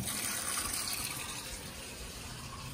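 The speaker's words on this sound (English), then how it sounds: "I'll turn the sink on. We're gonna go over, turn the hot on." Hot water runs steadily from a sink faucet fed by a Girard GSWH-2 tankless water heater, a continuous close hiss and splash with no voices.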